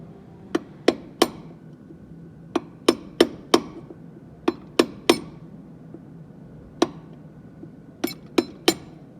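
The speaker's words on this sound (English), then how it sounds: "belt that with a hammer" A hammer strikes a metal clutch part from a Thwaites dumper truck in sharp, ringing blows, a dozen or so close hits spaced irregularly, some in quick pairs and triplets, with no talking.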